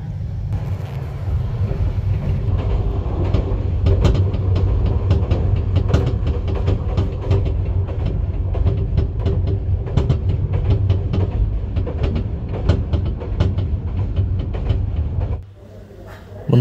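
The Turna Nishita Express runs at speed on the Dhaka–Chittagong line in a brand-new Korean coach, heard from inside the cabin as a continuous loud rumble with rapid clickety-clack of wheels, easing off abruptly near the end.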